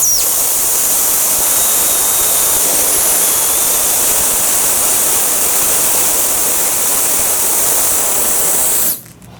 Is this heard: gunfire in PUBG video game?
no